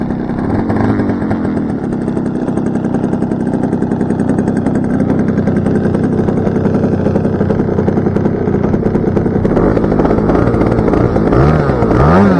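The engine of an RC model tow plane, a Bison, runs steadily after starting, a loud continuous buzzing drone that holds close and unbroken throughout with a slight rise in pitch near the end.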